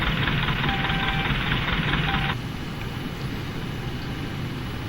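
A pushback tractor engine drones at a steady, loud low rumble while pushing a PMDG 747 in a flight simulator. A bright overlying whine cuts off partway through, leaving the engine hum alone.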